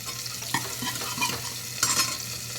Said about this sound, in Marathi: कांदा घालते कांदा भाजत आलेला आहे